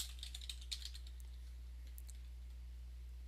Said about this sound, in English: So Step 5G, I'm going to type in address.